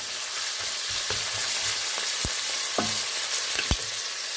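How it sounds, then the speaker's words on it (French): Onions frying in olive oil for a ratatouille-style shakshuka hiss in a steady sizzle, with a few sharp utensil clicks and scrapes against the pan; no one speaks. "Là, je fais compoter mes oignons."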